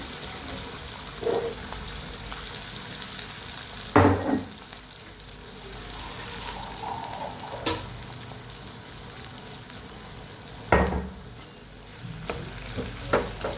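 Green chillies and garlic paste fry in a pan with a steady close sizzle, broken by a few sharp clatters and scrapes as the mixture is stirred.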